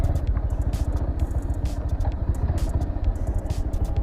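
Heavy motorcycle engine running on a rural road construction site, a close, rough, pulsing rumble with rattling clatter and no talk over it.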